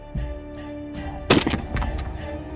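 A single loud, sharp shotgun blast cracks out about midway, followed by a brief rumbling echo over a steady background hum.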